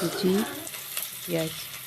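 Chopped onions fry in a pan with panch phoron spice mix, a soft, steady sizzle with brief louder bursts of hissing.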